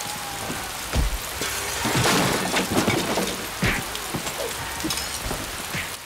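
Steady rain pours down in Piofiore: Fated Memories, a dense hiss of drops hitting surfaces, broken by a few heavier splashes and thuds, with no voices.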